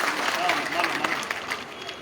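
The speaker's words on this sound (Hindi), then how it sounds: "एक बार जोरदार तालियां सर के लिए हो जाए" A crowd claps and applauds loudly at a Delhi park inauguration event in Sagarpur ward, a dense, continuous patter of hands filling the space without pause.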